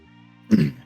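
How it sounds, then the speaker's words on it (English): A single short, close cough or throat-clear follows a brief quiet stretch, sharp at onset and fading within a quarter second. "you coughed"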